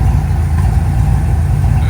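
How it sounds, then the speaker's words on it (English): A truck engine with a new exhaust idles steadily under its own power, a low continuous rumble that stays even and fairly loud throughout, with the idle running a little high. "There's what it sounds like, idling under its own power now."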